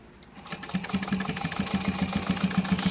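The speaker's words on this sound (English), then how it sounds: "So we have a standard flatbed sewing machine set up with a guard to make it easy to sew a straight line." A standard flatbed sewing machine fitted with a guard stitches a straight line, its motor winding up and then running in a steady, fast, rhythmic hum of needle strokes, close and alone.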